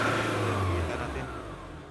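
A Nissan Navara engine with a P012B trouble code revs as the accelerator is pressed, a loud, close, brief mid-pitched roar that slowly fades.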